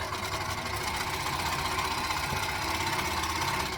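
An overlocker runs steadily while serging around the top and bottom edges of a skirt, a fast continuous mechanical whir held at an even level across the whole stretch.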